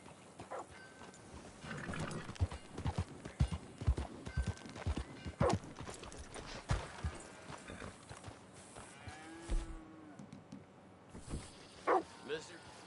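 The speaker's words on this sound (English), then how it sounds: "That's a fine horse you got there." Horse hooves clip-clop unevenly in Red Dead Redemption 2, with scattered knocks and thuds among farm animal sounds, including a brief low moo, and voices talking intermittently.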